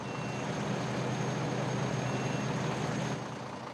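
A truck backs up in Farming Simulator 2013 with a steady, loud engine drone and road rumble that holds evenly throughout and eases slightly near the end.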